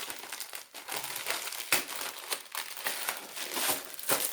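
Shop packaging crinkles and crackles continuously as a parcel from a boutique is torn open, with rustling bursts and sharp crackly peaks close up, no talking.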